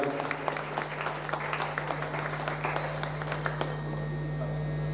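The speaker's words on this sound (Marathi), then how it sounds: "या ठिकाणी पुनश्च एकदा टाळ्यांचा गजर करूया" Audience applause at a religious ceremony honouring a devotee, a dense round of clapping from a crowd lasting about four seconds before fading, with a steady electrical hum underneath.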